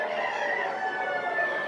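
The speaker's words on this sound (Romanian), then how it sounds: "găini din rasa Barnevelder, singurele două exemplare expuse la expoziția națională a României 2019, și găină și cocoș" A Barnevelder rooster crows at Romania's 2019 national poultry show, a sustained harmonic call heard in a large exhibition hall with no voices.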